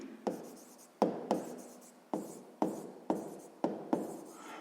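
Chalk or marker strokes on a board during a sixth-grade maths lesson: about eight short, sharp scraping strokes in an uneven rhythm, close and fairly quiet, with no talking.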